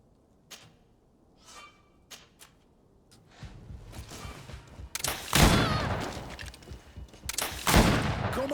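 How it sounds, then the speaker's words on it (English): Firearm shots in the video game GreedFall: a few sparse sharp cracks early on, then heavier loud bursts of firing and impacts over rumbling combat noise in the second half. "I'm good at shooting, apparently."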